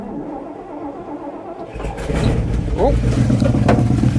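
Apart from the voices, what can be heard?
engine starting and idling after battery hooked up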